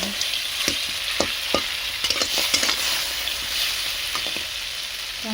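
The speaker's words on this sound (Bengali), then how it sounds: "কাঁকড়াগুলো দিয়ে দিচ্ছি, দিয়ে লাল লাল করে কাঁকড়াগুলো ভেজে নেব।" Crabs sizzle in hot mustard oil in a wok, a steady loud frying hiss broken by repeated scraping stirs and spatter bursts, with no voices.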